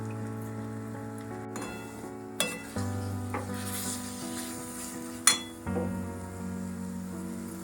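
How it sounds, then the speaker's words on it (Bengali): Meat masala with red chili powder being stir-fried in a pan gives a soft, steady sizzle, with a few sharp clinks and scrapes of a utensil against the metal. Quiet and close, with no voices. "মশলাটা কষাচ্ছে খুব সুন্দরভাবে।"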